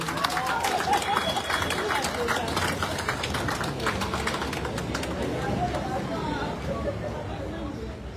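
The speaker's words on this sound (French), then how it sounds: "Applaudissez comme ça pour le Cristiano" An audience at a foundation's first-anniversary celebration applauds in a dense, continuous wash of clapping that holds steady throughout, mixed with crowd chatter and voices.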